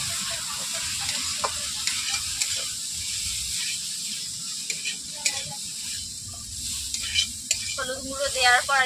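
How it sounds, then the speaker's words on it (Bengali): Basella (pui shak) with potato and eggplant, dusted with turmeric, fries in a kadai while a spoon stirs and scrapes, giving a steady sizzle broken by clinks that turn busier and louder at the end. "হলুদ গুঁড়ো দেওয়ার পর আমি এভাবে 2 মিনিট ধরে নেড়ে নিয়েছি"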